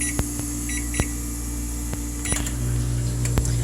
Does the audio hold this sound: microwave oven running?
yes